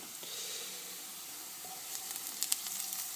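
Chopped garlic cloves stirred into sautéing onions for a mushroom risotto give a steady soft sizzle and hiss, with a few light scraping clicks near the end.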